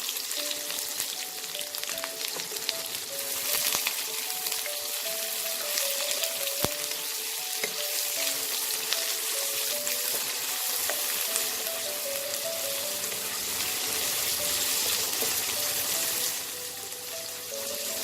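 Chopped onions fry in hot oil for a Bengali masoor dal tarka, giving a loud, continuous close-up sizzle and crackle that holds steady throughout, with no voices.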